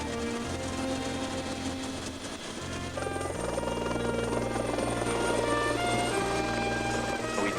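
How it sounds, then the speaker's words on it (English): A helicopter flies a long route out to an offshore platform in the Gulf, its steady rotor thrum and turbine whine loud and continuous from start to finish, with the low beat deepening partway through. "The people who work on the platform commute by helicopter 125 miles each way."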